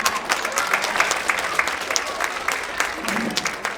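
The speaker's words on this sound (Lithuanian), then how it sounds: "Paplojam!" Audience clapping at a 32nd-birthday concert, a steady dense patter of many hands held evenly for several seconds, fairly close and lively with a few brighter individual claps standing out.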